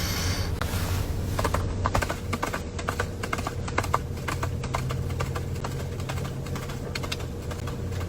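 Someone imitates a galloping horse, making a rapid, repeated clip-clop rhythm of crisp clicks and taps that runs steadily for several seconds, close and fairly quiet.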